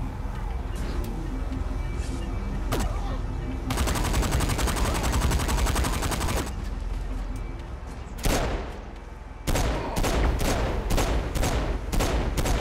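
Rapid automatic gunfire from the video game Saints Row IV, with long sustained bursts of fast shots followed by shorter volleys, loud and up close over a busy background of game noise.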